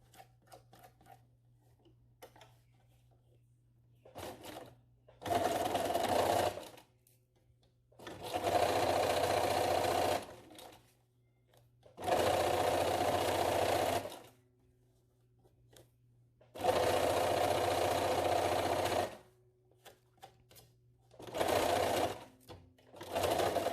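A sewing machine closes the bottom seam of a fabric mask in five or six separate bursts of fast, steady whirring, each a second or two long, with near silence and light handling noises between them.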